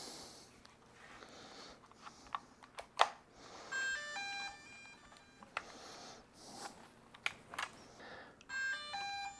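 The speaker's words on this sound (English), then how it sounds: "the beep indicates in pairing mode" Bursts of short electronic beeps and tones from a DJI Mavic Air 2 drone controller entering pairing mode, a few repeated, separated by quiet handling clicks and rustles.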